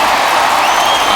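A sold-out crowd of 56,000 roars in a stadium during a World Series game between the Minnesota Twins and Los Angeles Dodgers in MLB The Show 21, a dense, steady wash of cheering and applause heard briefly.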